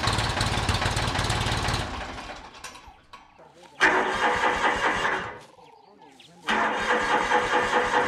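A broken-down tractor engine cranks and tries to start in three loud, rough bursts, separated by quieter mechanical sputtering and lulls.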